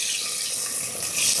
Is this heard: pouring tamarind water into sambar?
yes